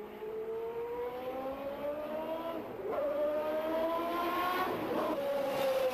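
A Porsche IndyCar runs flat out around the Nürburgring circuit, its loud, close engine note climbing steadily in pitch, dipping briefly at a gear change, then climbing again with no voices.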